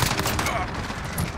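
FAL rifle fire in Modern Warfare, heard as a dense, loud burst of gunfire sounds with sharp transients throughout a short stretch, crowded with game effects and no clear gaps between reports.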